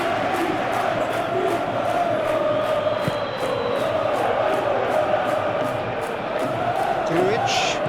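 Stadium crowd noise from a PES 21 match between Sporting and FC Porto, a steady, dense roar that swells slightly with cheering and holds evenly throughout.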